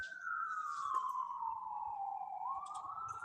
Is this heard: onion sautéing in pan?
no